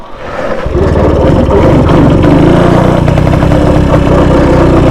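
A 1938 NSU Quick 98 single-cylinder motorcycle engine pulling in first gear on a forest track, loud and close, with a fast steady putter that comes in after a brief softer start and runs on without a break.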